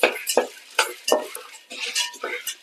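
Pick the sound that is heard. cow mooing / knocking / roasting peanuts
roasting peanuts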